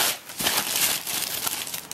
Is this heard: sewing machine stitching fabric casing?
no